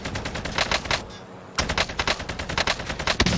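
Loud automatic gunfire aimed at enemies from a rooftop in Warzone, rapid rattling bursts broken by a brief pause, then steady close shots resuming.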